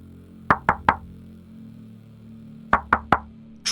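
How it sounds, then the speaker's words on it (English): Two bursts of three sharp wooden knocks, echoing through a quiet Alaskan wilderness near the ruins of Port Chatham, each group evenly spaced with a long pause between, over a low steady background hum. "Tree knocking."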